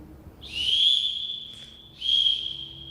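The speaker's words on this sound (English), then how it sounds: "you can now blow your whistle if you didn't want to already" A referee-style whistle is blown in two high, shrill blasts, the first long and the second shorter, loud and close with no talk over them.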